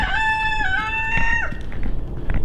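A rooster crows once nearby, a loud drawn-out cock-a-doodle-doo with a rising then falling tail, followed by faint farmyard rustling and no talking.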